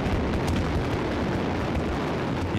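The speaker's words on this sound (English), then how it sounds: "When it sends a command, it shorts that detonator out, and it fires a shell." Rumbling fireworks barrage from a massive display, shells fired by computer-triggered detonators, heard as a continuous dense roar of overlapping booms with no clear gaps, loud and steady throughout.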